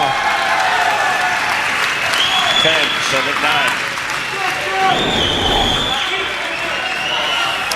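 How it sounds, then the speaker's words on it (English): At the 2006 US Open finals of a racquetball match between Mannino and Carson, a crowd applauds and cheers in a steady, loud wash, with a commentator speaking over it and a brief swell near the end. "We hear the crowd in the background getting into the game"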